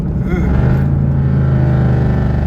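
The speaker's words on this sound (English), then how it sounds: "y'all ready to hear the downshift again?" A Jeep SRT engine drones steadily at low revs while downshifting, heard from inside the vehicle, with a deep continuous rumble.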